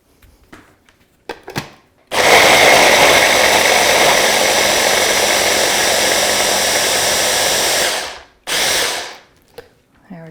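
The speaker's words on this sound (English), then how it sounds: "you will be so impressed how quickly this shreds these carrots" A food processor with a chopping cup roars as it shreds carrot pieces, a loud steady whir of about six seconds followed by a short second burst, with faint clatter before and after.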